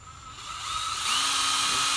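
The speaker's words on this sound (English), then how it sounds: "keep the drill moving" A power drill bores a tap hole into a maple tree, its high whine building and intensifying as the bit bites deeper into the wood, close and continuous.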